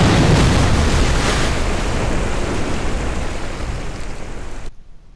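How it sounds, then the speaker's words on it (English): A rocket crashes into the ocean and explodes in Kerbal Space Program, a loud, dense roar that starts at full strength, slowly thins over several seconds and then cuts off abruptly into near silence. "Explosion."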